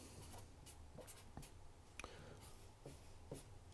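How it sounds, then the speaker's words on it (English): A pen writes out notes on paper in short, close scratching strokes with brief pauses between them, steady and fairly quiet against a faint room hum. "let's just go and write this out"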